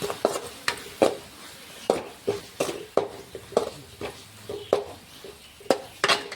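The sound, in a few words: stirring vegetable palya with jaggery in pan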